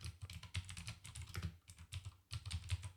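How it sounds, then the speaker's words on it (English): Typing on a computer keyboard: a steady patter of close, clicky keystrokes in quick uneven bursts with brief pauses, and no voices. "I'm just going to type this one in."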